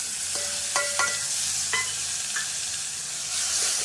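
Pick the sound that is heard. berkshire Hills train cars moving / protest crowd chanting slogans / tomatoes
tomatoes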